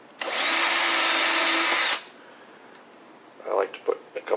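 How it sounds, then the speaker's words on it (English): A power drill drives screws into epoxy-coated drawer slides in one loud, steady whir lasting under two seconds, followed by faint clicks and handling noise. "I like to put a couple screws in each."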